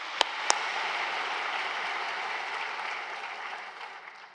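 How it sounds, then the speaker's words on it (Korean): A large congregation at an Easter union worship service in Yeouido Full Gospel Church gives sustained applause that fills the hall. Two sharp clicks come early, and the sound fades slightly toward the end. "박수해 주시겠습니다."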